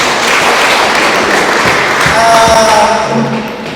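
A church wedding congregation breaks into loud, dense applause, a sustained wash of clapping with a few thumps and murmuring voices beneath it.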